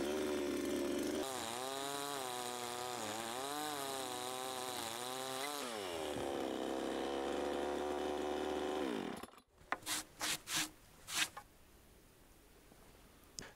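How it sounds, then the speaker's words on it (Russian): An electric saw with a soft start, used on a dugout-house building site, ramps up and hums steadily with a wavering motor whine for about nine seconds, then cuts off into a few sharp knocks and clatters. "На этой пиле стоит плавный пуск и запускается она очень плавненько"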